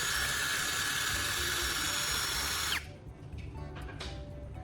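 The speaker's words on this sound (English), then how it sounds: "Then blend it all together with my newly made drill brush." A drill fitted with a homemade brush whirs loudly while blending a thick cleaning paste, running steadily for under three seconds before abruptly stopping, followed by faint clattering and handling noises.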